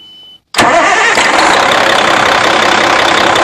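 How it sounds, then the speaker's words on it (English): A car engine fitted with a manual cylinder cutout switch cranks and fires after a short silence, then settles into a loud, steady close-up idle. "So we're going to start the engine up and let you see how it works."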